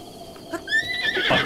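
A horse neighs in the video game Zelda: Breath of the Wild, a single clear whinny that rises and then trails off, loud and close.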